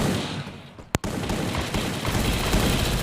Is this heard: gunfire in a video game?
yes